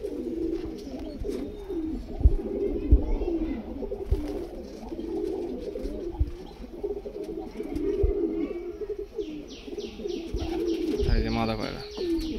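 Teddy pigeons, a mated pair, coo in low repeated murmurs throughout, close by, while someone talks over them and scattered light knocks and flutters sound in the background.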